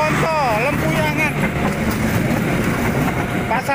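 The Bokowonto passenger train passes a level crossing at JPL 739, a loud, steady rumble of wheels and cars close by, with a crossing bell or horn tones near the start and a voice speaking over it.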